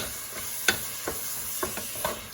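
Beef birria taco rolls fry in a pan with a continuous close sizzle, broken by a few light clicks and scrapes of stirring or turning, with no talking.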